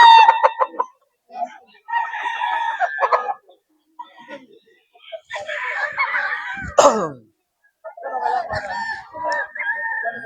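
A Gilmore Hatch stag rooster crows several times near and loud at a breeder's sale, sharp broken calls separated by short silences, with one harsh louder burst partway through.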